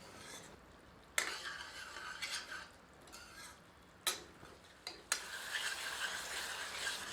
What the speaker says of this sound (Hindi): धीमी आंच पर इसे ढककर पकाते रहें और बीच बीच में करछी चलाते रहें।